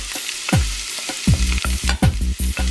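Vegetables hit hot rendered pancetta for a winter minestrone, crackling into a loud, close sizzle broken by several sharp scraping stirs, with no voices.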